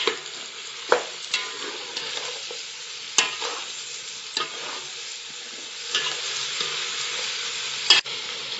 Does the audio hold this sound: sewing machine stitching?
no